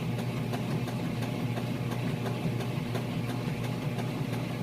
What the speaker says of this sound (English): You can hear it's got a nice strong agitation